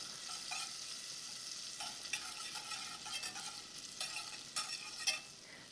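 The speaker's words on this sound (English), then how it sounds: "I need to let the butter melt into the saucepan. You can hear it sizzling." Unsalted butter sizzles steadily as it melts in a saucepan, with soft crackling and a few sharper pops, close and fairly quiet with no talking.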